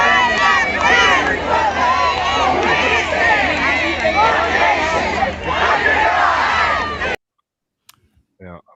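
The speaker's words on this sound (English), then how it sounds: "The crowd is big, ready to go." A large outdoor crowd waits for a reveal, a dense roar of many voices chattering and shouting together, loud and continuous for about seven seconds before cutting off abruptly to near silence.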